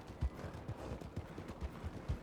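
Horse hooves clip-clop in a steady rhythm in a video game, with soft, fairly low thuds spaced evenly and no talk over them.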